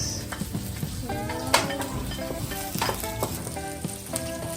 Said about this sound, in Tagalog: Igigisa sa patis